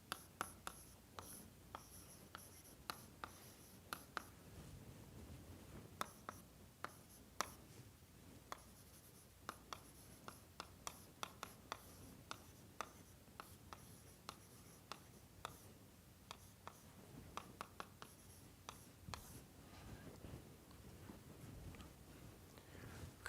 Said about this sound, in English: so let me write this